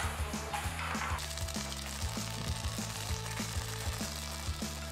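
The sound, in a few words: Korean pancake frying in a pan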